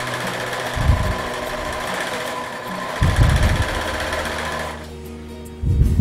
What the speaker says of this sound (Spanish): empujo la tela para atrás y sigo cosiendo